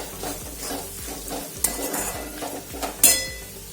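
Salted onions get stirred in a hot pan with a sizzle. A spoon scrapes in a quick, regular rhythm and clinks sharply against the metal a couple of times.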